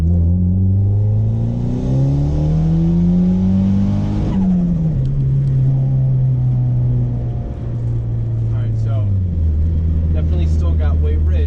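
Boosted Honda Accord pulling hard in second gear, engine note climbing steadily for about four seconds before a shift, then droning on at a loud, steady pitch with a brief dip; close, dominant, with faint voice underneath.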